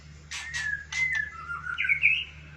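A white-rumped shama (murai batu) in fat, out-of-form condition sings alone, close by. It gives a few bright whistled phrases, then a rising, warbling run of clear notes over a faint low background hum.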